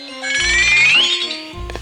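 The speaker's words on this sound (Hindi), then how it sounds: "बाजा वाले मालिक का फोन आई" An incoming-call ringtone plays on a mobile phone, a bright electronic melody with a rising tone over a low repeating musical backing, loud and close, lasting about two seconds.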